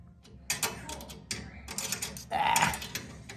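A rivet nut installation tool is tightened by hand, producing a series of close mechanical clicks, ratcheting creaks and metallic squeaks in irregular bursts, with no voices.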